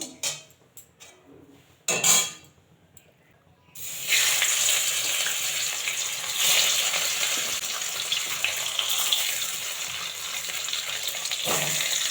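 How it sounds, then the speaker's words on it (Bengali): Fish fries in mustard oil in a wok, a loud sustained hiss and sizzle that starts abruptly after a few quieter clatters and continues steadily without speech. "এইটাতে মাছ ভেজে নেব আর এটাতে ভাজা বসাবো"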